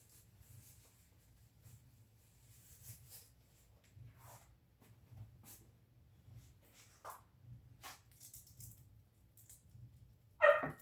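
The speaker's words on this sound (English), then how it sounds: "Oh, Max is barking. He's outside. He wants to come back in." A dog barking outdoors, a few faint, distant barks scattered over a quiet background with a low steady hum, ending in one louder, closer bark.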